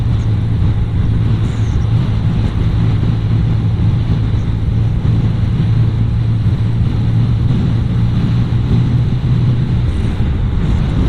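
A BMW R100RS motorcycle cruises at 4,250 RPM, around 110 km/h on the road, giving a steady low engine drone buried in heavy roaring wind rush that stays constant throughout, with no speech.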